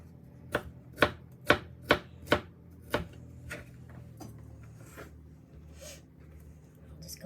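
A knife chops bell pepper on a cutting board in a quick run of six sharp, close taps, followed by a few softer, scattered cuts as the pace slows.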